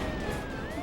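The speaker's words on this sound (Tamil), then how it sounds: "போலீஸ் வண்டி வர வருதே." A police car siren wails briefly, its rising and falling tone close and clear over a brief burst of traffic noise.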